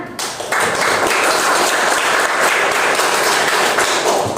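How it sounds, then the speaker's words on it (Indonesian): A classroom of students claps for a group that just finished presenting, a dense, steady wash of applause that swells after a brief softer start and continues evenly throughout, close and fairly loud. "Tepuk tangan."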